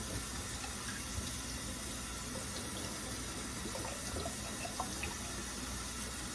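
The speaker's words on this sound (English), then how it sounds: "So get that bottle all rinsed out." Continuous running water splashes and swishes steadily as plain warm water pours into a bottle being rinsed out, with no voices.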